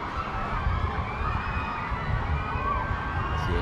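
A crowd cheers and shouts continuously at a Jet Ski Pro Tour 2019 race in Udon Thani, a dense roaring wash of voices with children's shouts mixed in, steady and loud throughout.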